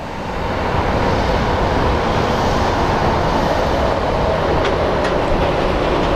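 A JSX jet arrives at Phoenix Sky Harbor airport, its engines swelling into a loud, broad roar that rises within the first second and then holds steady and close.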